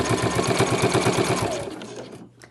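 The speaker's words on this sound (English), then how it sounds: "I'm just almost stitching on top of my previous lines of stitching here." A sewing machine with a medium weight needle stitches around the edges of a fabric travel wallet through several layers, a fast rhythmic whirring run that slows and stops near the end.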